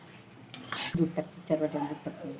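Raisins are stirred in ghee in a metal pan, with a spoon scraping and clinking against the pan in a few quick strokes over a faint sizzle, close by.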